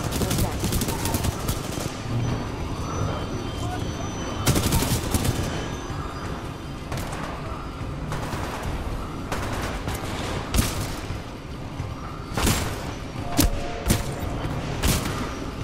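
Rapid bursts of automatic gunfire and heavy explosive blasts in a Titanfall 2 firefight, dense and continuous with loud impacts spiking throughout, some faint voice mixed in.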